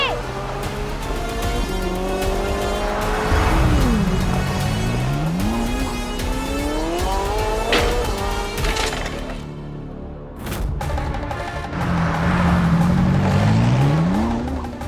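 A runaway car speeds out of control and skids, with a loud roaring engine and rising, swooping tire screeches that repeat, mixed with voices and dramatic TV-drama sound.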